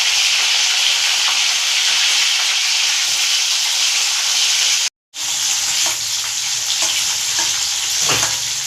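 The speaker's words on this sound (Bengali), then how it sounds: "তেল গরম হয়ে গেছে, এবার আমি ফুলকপিগুলোকে ভেজে নেব।" Cauliflower fries in a generous amount of hot oil, a loud, dense, continuous sizzle broken by a brief silent cut partway through, with faint stirring knocks near the end.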